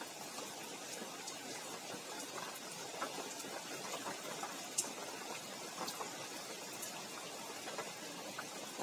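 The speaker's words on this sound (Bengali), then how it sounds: "আজকে সকাল থেকে এত বৃষ্টি, রাত থেকে বৃষ্টি।" Steady rain falls outside on a wet morning, a faint, even hiss with scattered soft drips and taps, no voices.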